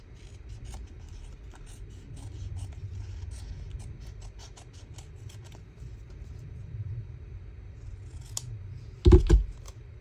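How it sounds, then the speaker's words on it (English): Scissors snipping the edges off paper collage strips for a junk journal, a run of soft crisp cuts over a low rumbling background, ending with a brief louder rustle of handled paper. "And then I'm going to turn it over and then I'm going to cut the edges off."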